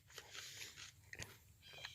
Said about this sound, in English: there's a leaf of it. I'm gonna eat it. It's really good. It's thick and crunchy.